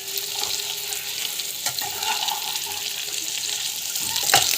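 Unsalted ingredients sautéing in a pan give a steady close sizzle and hiss, with occasional spatula scrapes and a brief clatter near the end, no speech.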